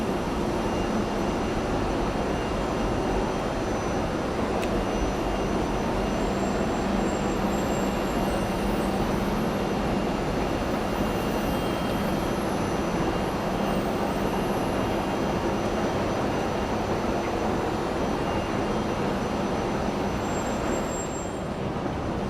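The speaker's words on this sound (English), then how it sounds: "that's the motor, that's the gearbox, big chain, which goes off to drive the kit" Below Knightsbridge Station, the escalator's motor, gearbox and big drive chain run with a loud, steady, close mechanical rumble and hum that stays unbroken throughout.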